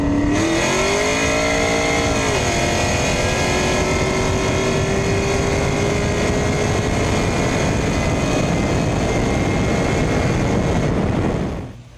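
A nitrous-fed 5.3L Chevrolet S10 truck on a drag racing test run, its engine roaring loud and close as it revs up through a gear and then holds a sustained high-pitched drone before cutting off at the end.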